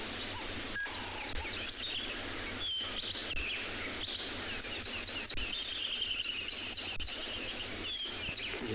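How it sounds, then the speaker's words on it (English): Squirrels give alarm calls on an afternoon safari drive in the South African bush: repeated high, short chirps and squeaks, fairly faint, over a constant hiss of insects and a low engine rumble. "You can hear the squirrels."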